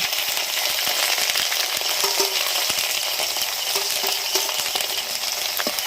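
Onion paste and garlic paste frying in a pan for a village-style desi chicken curry, giving a dense, continuous close sizzle with small ticks and pops and no talk.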